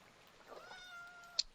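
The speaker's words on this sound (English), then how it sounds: "Yes, hello, cat." A Minecraft cat lets out a single drawn-out meow, clear and fairly close, followed by a short sharp click from the game.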